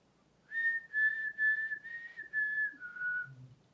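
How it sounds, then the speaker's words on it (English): A clear, steady whistled tone held in several connected phrases, dipping slightly lower at the end, close and fairly loud with no talking. "Let me see if I can whistle."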